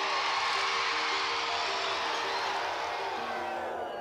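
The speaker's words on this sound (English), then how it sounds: "And listen to the crowd." A large crowd roars at King George V stadium as Charles and Diana arrive in 1983, a dense, continuous wash of cheering that holds steady and eases slightly toward the end.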